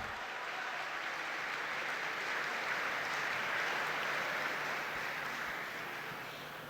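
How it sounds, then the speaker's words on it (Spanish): An audience welcomes Inés González, Secretary of Labour and Employment Promotion of Mexico City, with steady, sustained applause that swells slightly in the middle and eases toward the end, heard from some distance. "recibamos con un fuerte aplauso"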